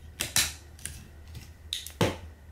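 Sharp plastic ratcheting clicks from the joints of a Transformers Unite Warriors UW-01 Superion figure as the arms are lowered, several crisp close clicks in irregular bursts with quiet gaps; no talking.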